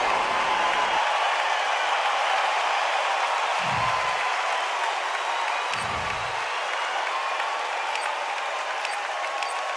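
In a boxing video game, a crowd applauds and murmurs steadily at moderate volume, a continuous arena wash of clapping with a couple of short low thuds.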